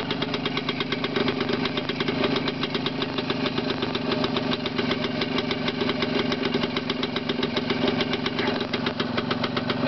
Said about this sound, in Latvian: Nu, motors iet ļoti labi.